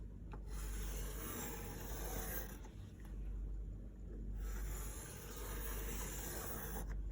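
A pencil traces around a drawn circle on paper, making a soft, close scratchy rubbing. The strokes come in two long passes separated by short pauses, and the sound is faint with no talking.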